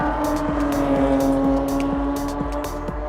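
The Blue Bayou race car's tires whistle on a wet track through the carousel at Watkins Glen during an endurance race, with a steady, droning engine running close and loud throughout.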